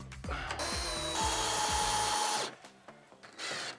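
A power drill bores mounting holes for a pull-up bar, with a short start, a sustained whining run and a second brief burst after a pause, loud and close with no talk.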